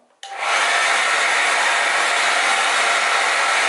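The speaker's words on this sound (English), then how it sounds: "Blow dry it a little more." A hair dryer switches on and blows steadily at close range, drying a glueless water-wave HD lace wig in a loud, continuous rush of air with no voices.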